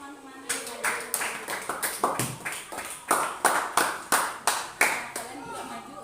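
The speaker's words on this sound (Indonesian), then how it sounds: "beri tepuk tangan untuk teman-teman yang lain" A classroom of students claps for their classmates, with a quick run of rhythmic, fairly close hand claps coming in steady bursts and a voice speaking faintly underneath.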